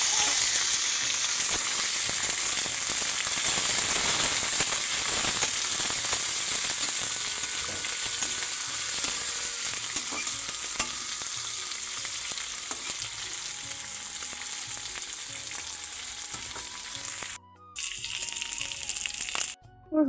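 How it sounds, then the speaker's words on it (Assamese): Dried fish fries in hot oil in a wok, an even loud sizzle and crackle with scraping stirs throughout, dropping out briefly near the end before the frying resumes. "তেল দিয়াৰ লগে লগে শুকান মাছখিনি ভালকৈ ভাজি লওঁ"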